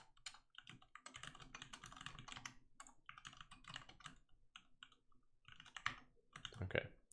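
Fingers type a short hello world program on a computer keyboard, a close, quiet patter of rapid key clicks in bursts with brief pauses, ending in a few sharper taps, no voices.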